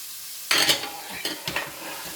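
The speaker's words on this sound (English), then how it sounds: "So the codfish is being fried right now" Codfish is fried in a pan for ackee and saltfish, with a sudden sizzle burst and a couple of softer stirring scrapes. The sounds are close and there is no talk.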